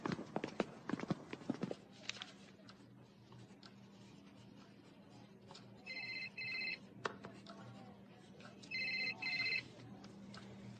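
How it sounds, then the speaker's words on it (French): Telephone ringing in two short electronic trilling bursts a few seconds apart, heard indoors after some clattering and knocks, with a faint background hum and speech nearby. "C'est le téléphone de qui?"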